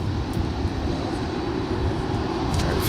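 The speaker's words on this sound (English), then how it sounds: "We've got another UPS 767-300ER coming out" A UPS Boeing 767-300ER at Dallas-Fort Worth airport gives off a steady, broad jet engine roar at moderate distance, constant and unbroken with no talking.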